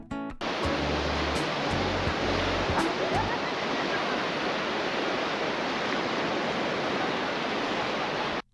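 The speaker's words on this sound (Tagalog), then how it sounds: "pakinggan nyo muna yung ampas ng mga alon sa tabing dagat" Steady roar of ocean surf washing onto a beach, continuous and loud for the whole stretch, with a few low knocks near the start.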